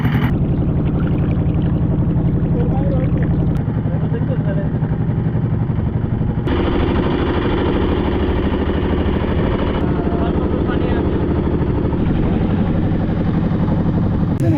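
A motor boat carrying ten to twelve people on a trip toward the Sohosrodhara waterfalls in Sitakund, its engine droning steadily and loudly close by, with the tone shifting a few times as the throttle changes and people talking over it.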